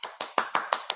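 Six sharp hand claps in a steady rhythm, close and fairly loud, with brief gaps between each strike and no voices.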